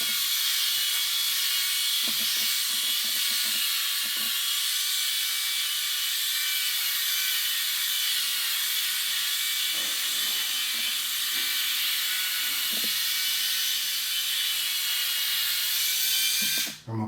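A Refined Bald Buddy electric shaver runs with a steady high buzzing hiss while shaving against the grain, with faint rasping and ratcheting bursts as it drags over stubble, close and continuous before cutting out at the end.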